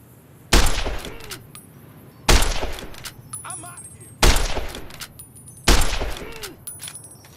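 Gunfire in Fallout New Vegas, aimed at a non-player character: four loud single shots spaced about two seconds apart, each a sharp crack with a decaying tail and some clinking in between.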